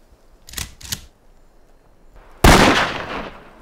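A pistol gunshot in a film fires once, a sudden loud crack after two short quieter knocks, with a ringing tail trailing off.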